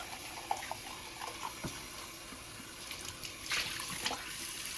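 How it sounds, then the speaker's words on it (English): Water from a tap rinsing a milk frother pitcher, a quiet trickling splash with small clinks and bursts of running water, faint and close, with no talking. "I usually just rinse it without paying much attention."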